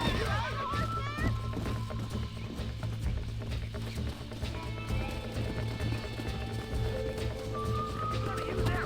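Horse hooves clip-clop steadily with occasional neighing during a horse-breaking scene in the Red Dead Redemption game on PS5, under continuous game music and shouted voices.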